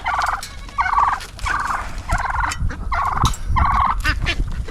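Turkeys gobble in loud repeated bursts while being fed corn on a farm with ducks nearby, the calls coming close and rhythmic, roughly six rapid warbling rolls over a few seconds, with some scuffling underneath.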